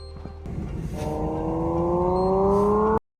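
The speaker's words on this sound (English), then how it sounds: "I could change a setting so that this EV sounds as though it's running on gas" A synthetic gasoline-engine drone played by an electric car rises steadily in pitch like a car revving up, holding a smooth humming tone before cutting off abruptly.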